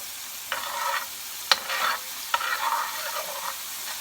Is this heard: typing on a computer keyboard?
no